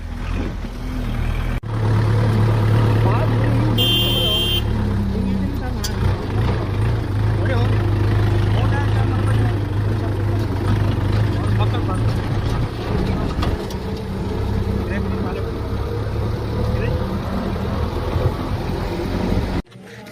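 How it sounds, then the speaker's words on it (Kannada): A tractor is driven through a narrow village lane, its engine giving a steady, close, rumbling drone throughout while someone talks over it. "ಈ ಗಲ್ಲಿ ಐತ್ರಿ ಇದು ಇಂಥ ಗಲ್ಯಾಗ ಟ್ರ್ಯಾಕ್ಟರ್ ಹೊಡ್ಯದ್ರಿ"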